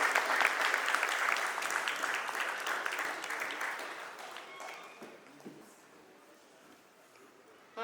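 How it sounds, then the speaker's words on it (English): A crowd at a Heidelberg India and Gallus corporate welcome event gives a big round of applause as guests come on stage, loud at first and then gradually thinning and fading away. "Can we have a big round of applause, everyone?"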